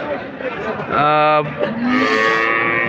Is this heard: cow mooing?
yes